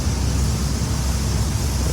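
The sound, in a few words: river and waterfall rushing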